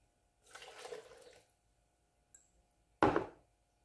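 Milk poured from a cup into batter for a flourless green corn cake, a soft liquid pour for about a second, then a brief quiet gap and a short, sharper splash near the end.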